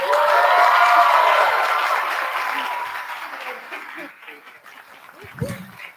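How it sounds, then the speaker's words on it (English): Audience applause at a ceremony, a loud wash of clapping that slowly fades over several seconds, then a few scattered claps and faint crowd noise. "Let's give a big round of applause for Mrs. Gina Van Leeuwen."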